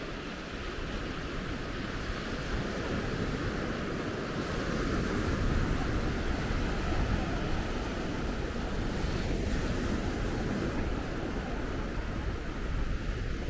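Ocean waves on Maspalomas beach, Gran Canaria, on a calm morning: a continuous, steady wash of surf at moderate loudness with a slight swell near the middle, no voices.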